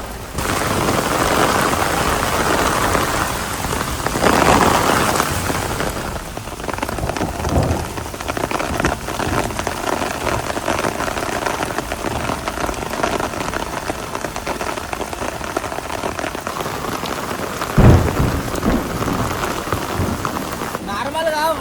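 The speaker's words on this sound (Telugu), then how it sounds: "నార్మల్గా వాన రాళ్ళే కాదు, పిడుగులు కూడా పడుతున్నాయి." Heavy rain pours steadily during a thunderstorm at a deep-well camping spot, a dense loud hiss throughout, with a sharp thunder crack near the end and a louder burst early on.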